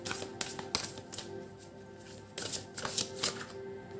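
Tarot cards being shuffled by hand, with quick papery riffles and sharp taps in uneven bursts, close and fairly quiet.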